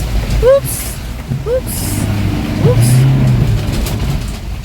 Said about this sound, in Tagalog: Naku, kawawa yung sasakyan, may iyak.